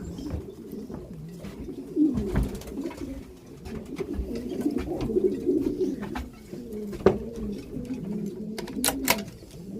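Racing pigeons coo steadily in soft, throaty rolling calls, several birds overlapping close by, with occasional faint clicks and flutters.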